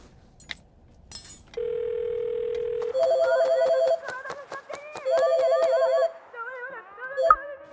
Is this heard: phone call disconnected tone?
yes